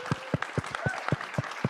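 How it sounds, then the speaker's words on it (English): A small audience claps at a talk, a brief patter of separate, fairly sparse hand claps in a steady rhythm, with no voice over it. "I don't know if you're clapping about the Obama part or Peace Corps"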